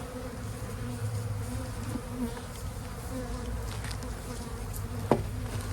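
Honeybees swarm around an opened hive, a dense continuous buzz close by with a single sharp knock partway through.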